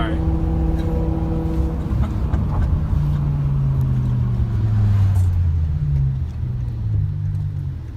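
A BMW car engine revs hard, holding a rising tone before dropping as it shifts, then climbing again in a second gear, loud and close with people talking over it.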